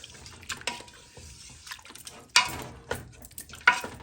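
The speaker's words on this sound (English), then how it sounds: "Give it a stir." Oxtail, spices and water being stirred in a pot, with soft sloshing and liquid swirls broken by sharp clinks of the spoon against the pot, close and quiet.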